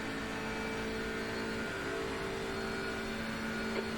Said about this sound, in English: BMW sounds like it's working hard at full chat.